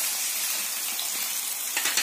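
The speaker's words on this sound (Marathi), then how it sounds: "हा बारीक काप केलेला कांदा आपण व्यवस्थित फ्राय करून घेणार आहोत" Chopped onion, red chilli and ginger-garlic paste fry in a pan, giving a steady, close, hissing sizzle with a few stirring clatters toward the end.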